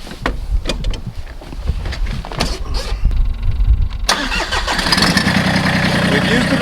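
A car engine in fuel management mode, starting and then revving partway before holding at a limited rise, loud and close with a steady roar in the latter half. A person talks over the early part.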